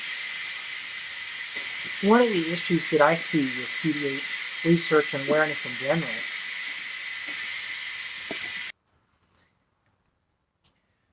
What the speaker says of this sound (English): Sorry for that hissing noise in the background.